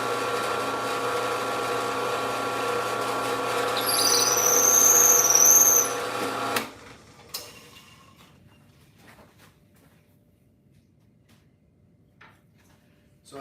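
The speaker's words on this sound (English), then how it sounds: "I'm gonna ream this out real quick." A power tool reams out a chef knife handle of spalted maple, a loud steady whine with a shrill squeal for about seven seconds, then stopping abruptly and leaving quiet handling noises.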